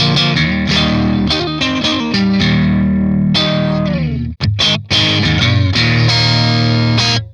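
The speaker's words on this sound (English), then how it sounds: "I'm loving the sounds that I'm getting out of this guitar so much." Distorted electric guitar, a Henry's Space or Snake II model, plays loud chords and riffs up close, with a couple of brief sharp stops partway through.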